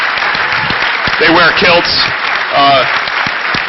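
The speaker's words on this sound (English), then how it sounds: "get a big round of applause for them real quick" An audience applauds the volunteer staff at an event's closing remarks, a broad, steady roar of clapping running under someone talking over it.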